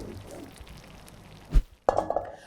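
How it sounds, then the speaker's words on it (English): A lid closing on a pan of tteokbokki with spring onion makes a dull knock, followed by a brief metallic rattle and clink as it settles, then quiet. "I'm just going to close the lid and turn off the heat"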